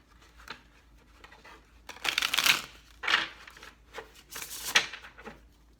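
Tarot cards riffled and shuffled by hand in repeated bursts, a crisp papery fluttering close to the ear, with quieter pauses between the shuffles.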